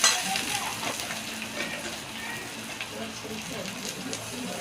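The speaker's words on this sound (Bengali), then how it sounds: "তো চলুন এইভাবেই নাড়তে থাকুন" Onions fry in a pan while being stirred, a steady soft sizzle running throughout at moderate level, with faint scraping and a voice speaking over it.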